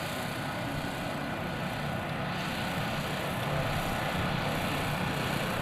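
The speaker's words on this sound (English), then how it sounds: "He'll bring the airplane around and slow it down and have the landing gear up." A steady, loud engine roar of an F-86 jet fighter at an airshow, broad and droning, holding constant without a clear approach or fade.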